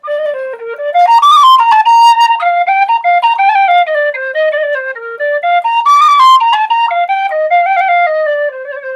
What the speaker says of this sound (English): he played a little tune on the whistle.